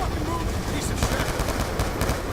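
M4 rifle fire in the Call of Duty Black Ops 2 video game, loud rapid bursts of automatic gunshots cracking close together and running almost continuously throughout.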